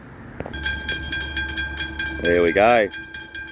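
A train approaches a level crossing with a steady rumble and a repeated crossing bell, then sounds two loud horn blasts. Someone briefly speaks over the noise.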